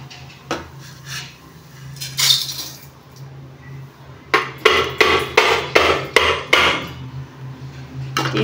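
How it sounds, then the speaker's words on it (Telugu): Roasted vermicelli is moved into a bowl in a home kitchen, with a few scattered clinks at first, then a quick run of sharp metal utensil knocks and scrapes close by, without talk. "ఇలా దోరగా వేగిన తర్వాత ఒక గిన్నెలోకి తీసేసుకుందాం."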